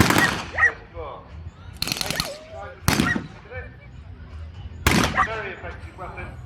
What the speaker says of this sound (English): the Germans to prepare their secret weapon for this engagement, which is a machine gun